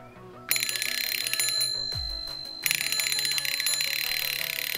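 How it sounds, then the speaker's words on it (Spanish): A shrill homemade electric alarm bell rings loudly and continuously, cuts off briefly, then rings again just as loud, close by. "Y nada, ya tenemos nuestra alarma hecha,"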